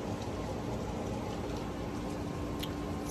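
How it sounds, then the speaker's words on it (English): Steady rain falls on a backyard camping tent weighed down with bricks, a dense, even patter and hiss that continues unbroken throughout, with no voices. "because it's raining."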